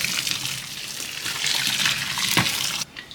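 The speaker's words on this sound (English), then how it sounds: "This is some kitchen towels. Pour hot water" Hot water is poured from close by onto folded kitchen towels, a steady gushing splash that stops abruptly near the end.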